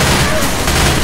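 Dense, continuous gunfire from the zombie shooter Left 4 Dead, a loud steady barrage of overlapping shots with booming low end, filling the whole moment without a break.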